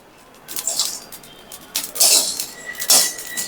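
Ajwain seeds crackle and pop while roasting in a dry pan, scattered bright crisp snaps coming in small bursts, close up with no talking.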